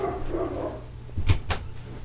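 Two short dog barks ring out close together after a soft low rumble, fairly quiet and otherwise alone.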